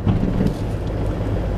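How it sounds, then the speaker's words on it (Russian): Strong hurricane-force wind buffets the microphone on a beach drive in Spain, a steady, loud low roar with rumbling gusts throughout and no voices. "Ветер просто ураганный. Все сносит."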